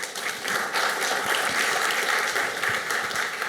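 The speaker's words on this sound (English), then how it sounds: "Round of applause for Brian." An audience at an AI technology talk breaks into sustained, even applause for a speaker, a dense wash of many clapping hands with no voices on top.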